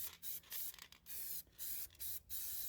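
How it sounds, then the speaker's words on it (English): Short hissing bursts from a spray paint can being sprayed onto a painting, about six close, quiet puffs with brief gaps between them. "I'm using spray paint from One Line"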